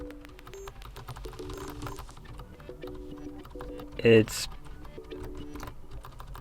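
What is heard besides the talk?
keys pressed on Xiaomi membrane keyboard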